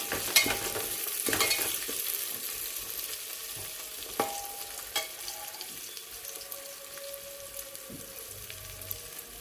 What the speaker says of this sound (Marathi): हिरवी मिरची घालून 1 ते 2 मिनिटासाठी परतून घेऊन